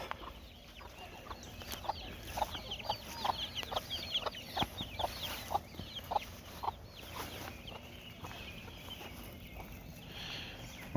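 Baby chicks in a small coop giving repeated soft clucks and chirps in a brisk, uneven rhythm, fairly close and moderately loud, with no talking.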